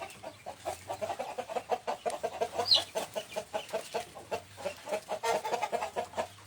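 Free-roaming rooster and hens in a Thai village cluck in a quick, steady rhythm close by, with one brief higher squawk among the repeated calls and no voices.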